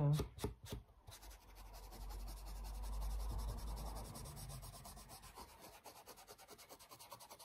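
A page of an art collage journal is re-inked, giving a few sharp taps followed by a steady, quiet rubbing and dabbing sound close by, with no speech.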